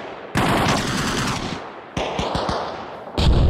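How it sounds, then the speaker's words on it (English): Loud gunfire in the Arma Reforger video game with a Fallout mod: several bursts of heavy automatic fire, the first a long sustained roar, then a run of quick separate shots and a final sharp burst, all close and dominant. "That gun is so loud."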